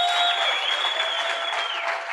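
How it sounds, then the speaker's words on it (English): A summit crowd applauds township entrepreneurs from the manufacturing industry, with dense, steady clapping and a few faint cheers throughout, close and loud. "Let's give them another round of applause."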